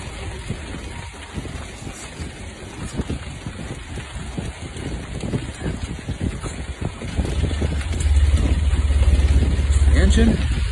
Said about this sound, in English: I'm gonna turn on the engine, charge the batteries.